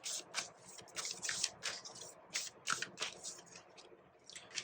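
Tarot cards riffled and shuffled by hand, a run of quick papery flutters and soft slaps in uneven bursts, close and fairly quiet, with no voices.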